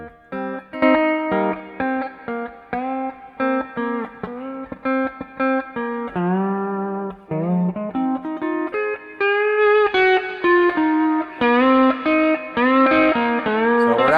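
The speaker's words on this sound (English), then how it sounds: "Now getting a little bit of overdrive distortion." A Mullen Pre-Royal Precision pedal steel guitar through a Quilter Labs Steelaire amp plays sliding chords with a crunchy overdriven tone, continuous and fairly loud, with swelling notes and no voices.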